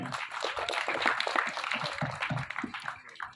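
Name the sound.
audience applause for Bhushan ji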